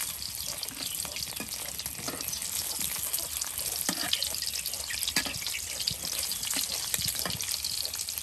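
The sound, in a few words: eggs frying in oil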